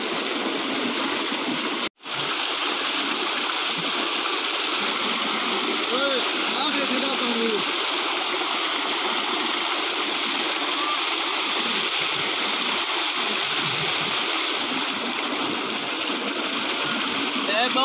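Cold water gushes steadily from a tube well, a continuous loud hissing splash and gurgle that fills the whole stretch, with a brief dropout near the start and faint voices underneath.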